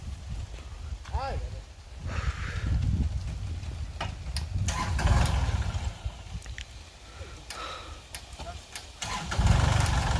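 A vehicle engine cranks and starts, with a low rumble running through the clip beneath people talking nearby while the car is being fixed up.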